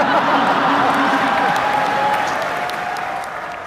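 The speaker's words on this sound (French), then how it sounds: "c'est tous ces gens qui applaudissent, parce que c'est une performance technique" An audience applauds a technical performance, steady dense clapping from a large crowd that carries loudly throughout and fades slightly toward the end.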